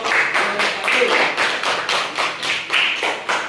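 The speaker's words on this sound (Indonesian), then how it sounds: "Tepuk tangan untuk satu." A classroom of students claps together for group one during a fiqh lesson, steady rhythmic bursts of hand claps repeating about twice a second, close and fairly loud.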